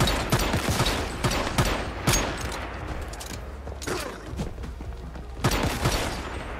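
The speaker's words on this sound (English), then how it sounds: "I know I was shooting over those rails" Gunfire in the co-op post-apocalyptic game Once Human: several loud, close bursts of shots separated by short pauses, each with a sharp crack and rumbling tail.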